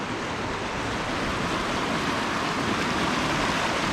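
Waterfall at Mill Creek Park in Youngstown on the Slippery Rock Trail, a constant dense roar of rushing water, steady and fairly loud with no voices.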